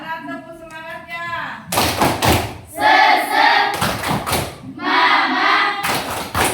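Students in a classroom chant together, then break into rhythmic clapping, with loud bursts of hand claps alternating with the group's sung words.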